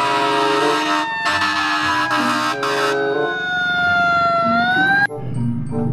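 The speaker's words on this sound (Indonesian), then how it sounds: "Wah, yang ini ada mobil pemadam kebakaran." A loud fire truck siren wails with a sliding tone over background music, then cuts off abruptly near the end.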